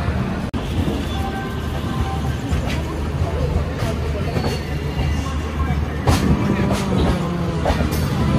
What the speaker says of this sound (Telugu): 8:30కి స్టార్ట్ అవ్వాల్సిన ఈ ట్రైన్ 2 minutes డిలేతో 8:32కి అయితే స్టార్ట్ అయింది.